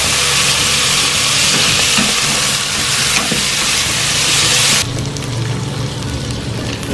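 Mutton sizzles and fries loudly in a pot with onions for yakhni pulao, a steady dense crackle that continues throughout, dropping slightly in brightness near the end as stirring shifts the contents.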